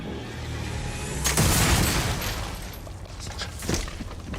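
A junk cannon in Fallout fires heavy booming shots over a dense, rumbling noisy background, with a louder blast partway through and more shots after.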